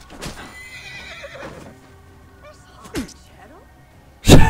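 A horse in the game Assassin's Creed Origins gives several loud whinnies between thuds and impacts, the cries rising and falling, with a sharp heavy hit at the end.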